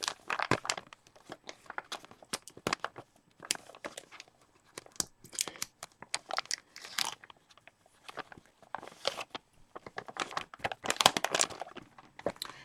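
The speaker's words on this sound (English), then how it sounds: "Apologies for the crinkling" Paper crinkles in short bursts during drawing with Derwent pastel pencils. The dry rustles and crackles are close and come in uneven clusters, with brief quiet gaps between them.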